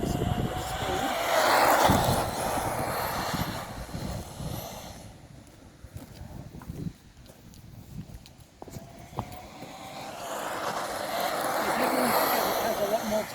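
A 1/10 scale RC car fitted with a tiny 1/18 scale motor cornering at speed, its whining motor rising and falling as it passes near and away, with tires scuffing and a person talking.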